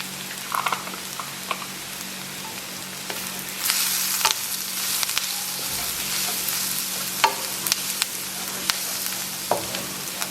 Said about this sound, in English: So here I've added my onions and some oil, and I'll just saute them until they are translucent.